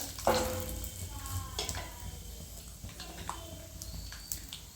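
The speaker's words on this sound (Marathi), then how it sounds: "शेंगदाणे छान असे तळू द्यायचे" Peanuts fry in hot oil with cumin and mustard seeds, a moderate, close sizzle and crackle with light stirring and small pops over background noise.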